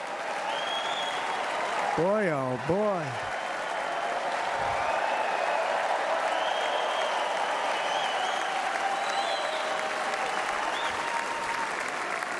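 A Republican convention crowd applauds Hulk Hogan with dense, steady clapping and cheering that fills the whole stretch, while a voice briefly speaks over it near the start.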